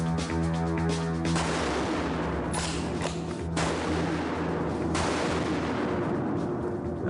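A rifle fires once with a sharp crack after a low steady hum, followed by a long rumbling echo and a few more loud bangs trailing off across an open range.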